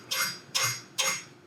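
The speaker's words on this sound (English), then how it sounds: "whack the hammer a little bit on it, and it should free that axle up to where it will come out." A hammer whacking a CV axle on a 2014-2018 VW Beetle, Golf or Jetta: three sharp metallic strikes spaced evenly about half a second apart, close and clear.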